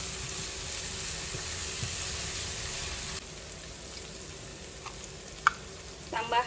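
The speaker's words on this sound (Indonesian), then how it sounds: "Kita tumis bumbu nasi goreng yang sudah dihalus." Ground fried-rice spice paste sizzles steadily in hot oil in a pan, a close, even frying hiss with a few sharp clinks and stirring knocks near the end.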